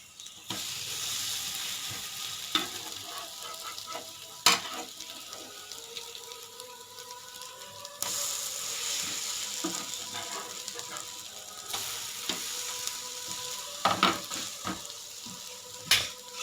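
Egg and bread omelette frying in a pan at road side style, a steady hiss and sizzle running throughout with scattered soft clicks and scrapes, fairly close, no talk.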